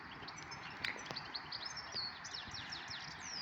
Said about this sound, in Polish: Ośpiewają te ptaki.